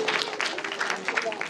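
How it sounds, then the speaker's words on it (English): An audience gives a presenter a round of applause at an academic conference: a brief, moderate burst of dense clapping with individual claps audible, somewhat distant in the room. "Let us give a round of applause for Miss Maricris Lauro-Henderson."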